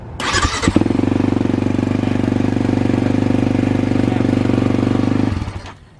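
A 2021 Kawasaki KX450X dirt bike engine cranks briefly, catches and runs at a raised, steady throbbing idle for several seconds before cutting off, loud and close.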